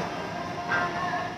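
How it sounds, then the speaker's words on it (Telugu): Ambience at platform 10 of Vijayawada railway station while waiting for the Sanghamitra train: a steady rail rumble with a brief rise in clatter, no clear voices. "విజయవాడ రైల్వే స్టేషన్లో సంఘమిత్ర ట్రైన్ కోసం ప్లాట్ఫామ్ నంబర్ 10 మీద వెయిట్ చేస్తున్నాను."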